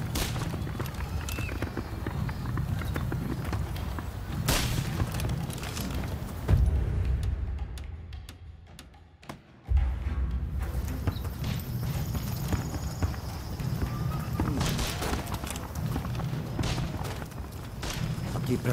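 Horse hooves clip-clop steadily on a mounted archery training ground in the video game Rise of the Ronin, a moderate rhythmic patter with ambient music and a brief dip in sound partway through.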